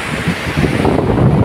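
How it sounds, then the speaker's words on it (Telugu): Spray from Jogini waterfall near Manali blown about by the wind, a loud, steady broadband roar and rush of gusting air and falling water with heavy wind buffeting on the microphone, close and constant. "వాటర్ గాలికి మీద పడుతుంది."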